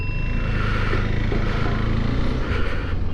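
A KTM motorcycle cruises along a highway expressway, with a loud, steady engine drone blended with heavy wind rush throughout and no break in the noise.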